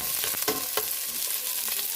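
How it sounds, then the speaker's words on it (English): Garlic and onion sauté in hot oil in a pan, a steady close sizzle with a few stirring scrapes, no voices. "saute our garlic and next our onion. Let's mix it together."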